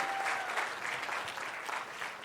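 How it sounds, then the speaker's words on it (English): A crowd applauds at a live debate event, a brief and steady wash of clapping heard throughout. "give him a round of applause, Bitcoin Ben."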